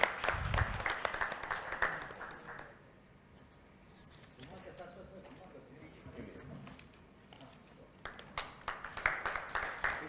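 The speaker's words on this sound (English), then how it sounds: "I'll request everyone to kindly give a round of applause." Bursts of audience applause at a wealth summit panel discussion, clapping loudly at the start, fading to a quieter lull in the middle, then rising again near the end with scattered claps.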